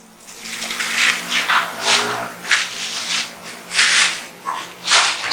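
A homemade liquid toilet wash mixture with Texapon is stirred in a bucket, giving a steady rhythm of about eight loud, sloshing swishes, each a second or less apart.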